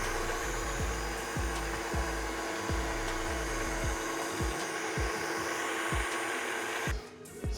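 A motorized pasta machine rolls homemade spaghetti dough into sheets, giving a steady loud whir with a regular low thump roughly every half second, then stops near the end.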